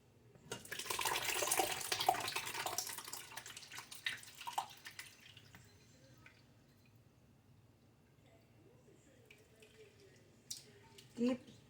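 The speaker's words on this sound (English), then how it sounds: "I might run it back through a cheesecloth. So I'm gonna be doing that now." Wild grape juice pours and drains through cheesecloth, a splashing liquid rush that tapers into scattered soft drips, with a person speaking over it.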